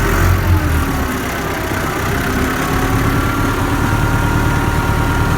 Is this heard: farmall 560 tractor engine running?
yes